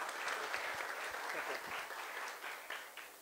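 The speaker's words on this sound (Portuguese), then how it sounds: "palmas para ela" An audience at a Brazilian lecture breaks into warm applause, a dense, fairly soft spread of clapping with scattered louder claps that holds steady and begins thinning toward the close.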